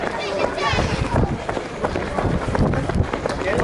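People run in a group at a zombie-themed outdoor run event in Łódź, a dense, continuous patter of footsteps close by with voices and crowd noise mixed throughout.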